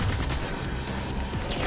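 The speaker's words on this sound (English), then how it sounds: "Machine gun time!" Sustained machine gun fire in the video game Destiny, a loud continuous rattle of rapid shots with no break, close and dominant.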